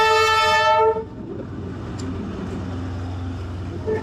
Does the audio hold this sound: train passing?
yes